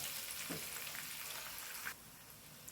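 Oil sizzles and crackles steadily in a pan while mango pickle cooks, a soft, even frying hiss that drops lower toward the end.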